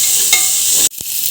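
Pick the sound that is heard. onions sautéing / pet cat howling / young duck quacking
onions sautéing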